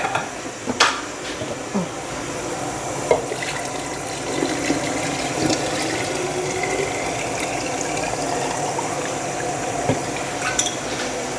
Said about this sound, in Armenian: ծորակի ջուրը բացեմ